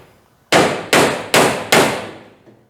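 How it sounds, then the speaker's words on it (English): A hammer pecking on a car fender: four sharp metallic blows at an even pace, each ringing out briefly before the next, close and loud with no talking. "Actually, I think I need to take a hammer,"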